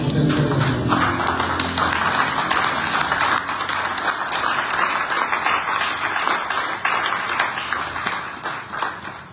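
A congregation at an evening Spanish-language church service claps together in dense, steady applause, loud and close, holding nearly level for the whole stretch with only a slight dip partway through.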